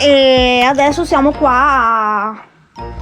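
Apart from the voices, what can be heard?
No distinct noise like a dog, phone or traffic.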